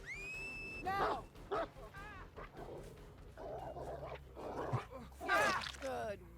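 A dog in the game Mouthwashing barks and whimpers in short bursts among growling, animal-like cries, fairly close, with a voice speaking briefly.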